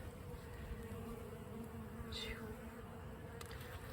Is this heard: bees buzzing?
yes